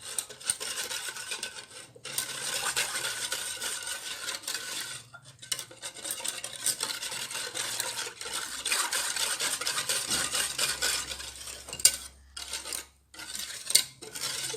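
A banana flan powder mixture whisked by hand in a bowl: steady, fast scraping and rattling strokes, close and fairly loud, with a few short pauses and clinks near the end.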